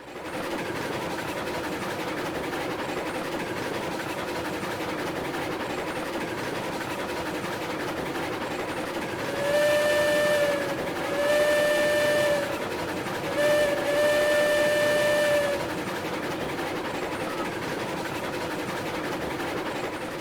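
A train running in the Railroads Online video game, a steady mechanical rumble throughout, broken midway by a few long steam whistle blasts in close succession.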